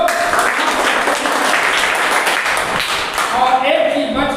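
Students at a school safety programme applaud loudly, a dense, continuous clatter of clapping close by that fills the whole stretch without pause.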